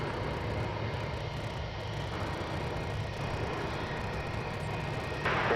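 An American Airlines plane taking off from runway 36 right at DFW Airport gives a steady, distant engine roar that holds at an even level for several seconds.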